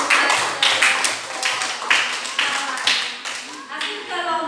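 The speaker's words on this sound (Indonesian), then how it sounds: "Ya, tepuk tangan buat" A classroom of students applauds together, a dense burst of many hands clapping in short swelling waves that carry on steadily and fairly loud before thinning toward the end.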